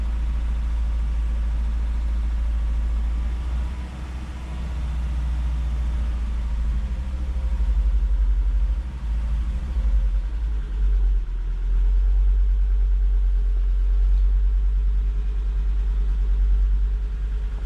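A Volvo 2.4 non-turbo petrol engine idles steadily with a misfire, a low, uneven rumble that surges and dips over the whole stretch, close by and with no talk.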